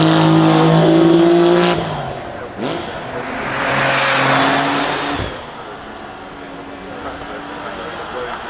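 A race car driving at the Goodwood Festival of Speed, engine loud and near with rising and falling revs and a roaring pass midway, under a commentator's talk.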